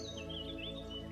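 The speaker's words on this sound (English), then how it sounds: "birds chirping," Birds chirping softly in a calm outdoor setting with flowing water, faint high tweets wavering over a steady low background hum, distant and gentle with no voices.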